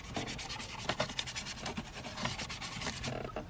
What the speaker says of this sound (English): Take my brush, agitate the vents a little bit, move that little shifter around a little bit.